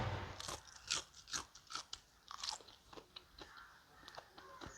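Crisp, crackling bites of masala-coated fried okra and crunchy chewing repeat in a quick irregular rhythm, close up and fairly quiet.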